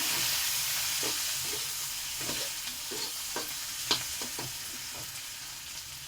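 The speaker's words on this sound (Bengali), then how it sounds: "চিংড়ি মাছটা তেলে দেওয়া ভালো করে ভেজে নেব" Prawns fry in hot oil with bay leaf, a steady close sizzle broken by scattered pops and the scrape of a spatula stirring through the pan.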